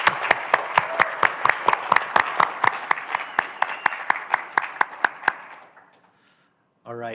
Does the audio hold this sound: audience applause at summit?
yes